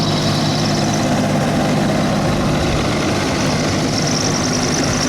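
An experimental Raptor prototype aircraft engine runs on the ground during a test, roaring steadily and loudly throughout with a deep, dense rumble.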